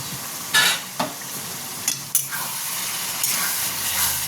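Chicken keema sautéing in a pan, a steady soft sizzle broken by a few sharp scrapes and clinks of a spoon stirring against the metal, fairly close and quiet.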